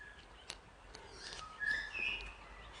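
A parrot whistling softly in short bright notes, a few clear tones rising over faint room noise, fairly quiet and distant with no talking.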